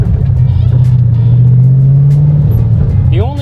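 An LS2-powered Datsun 280Z drives along with a steady, loud low engine drone that holds level, then eases off near the end, heard from inside the car.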